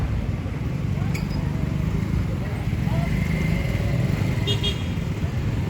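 Busy street traffic in Cebu City, Philippines, with motorcycle taxis buzzing past continuously, a horn tooting briefly, and some voices mixed into the roadside noise.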